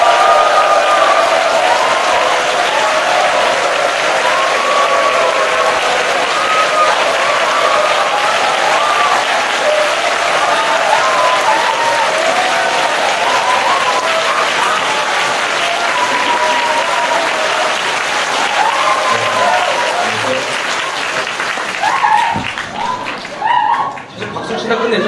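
A live talk-show audience applauds at length, dense steady clapping from a large crowd that carries on for many seconds before thinning out near the end.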